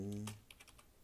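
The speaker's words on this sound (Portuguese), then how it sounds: "vou digitar aqui npm rum" A few quick keystrokes on a computer keyboard as a command is typed into a terminal window, a short burst of clicks right after a brief low hum, then quiet.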